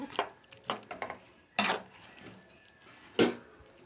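A utensil scrapes and clanks against a pan while mushroom gravy is stirred, giving several sharp metallic knocks between softer stirring sounds, close by.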